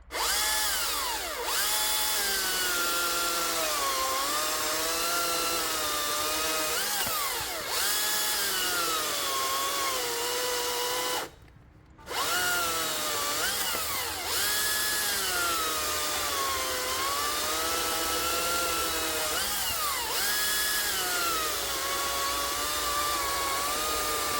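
A Greenworks Commercial 82CS34 electric chainsaw fitted with a high-speed drive sprocket runs with a high, buzzing whine that rises and dips in pitch, cutting out briefly midway before starting up again.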